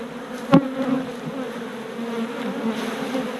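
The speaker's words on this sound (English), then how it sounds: "Shake these bees off of here" Honeybees buzz steadily as they are shaken off a honey comb, a close, continuous drone with a sharp knock near the start.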